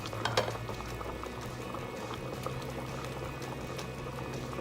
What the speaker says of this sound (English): We're gonna bring this to a boil. My people, we are up to a boil.